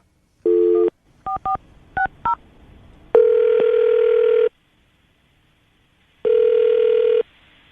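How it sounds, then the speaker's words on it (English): A telephone number being dialed: a short run of crisp touch-tone beeps, then two longer ringback tones separated by silence, all close and clear. "I'm going to dial the number now"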